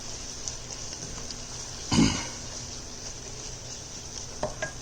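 Ginger garlic paste cooking on a medium flame for a chicken curry, a soft steady sizzle with faint stirring scrapes, broken midway by a short cough or throat clear nearby.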